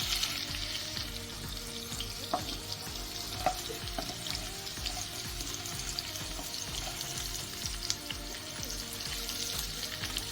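Green chillies and garlic sautéing in a pan give off a steady, low sizzle, broken by light scraping and clinking from stirring, with no voices.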